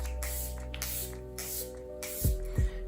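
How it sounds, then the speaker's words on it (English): Makeup setting spray misted onto a face in several short hissing bursts with brief pauses between them, close and fairly loud, with no talking. "so I'm just going to set it down a little bit with a bit of a spray"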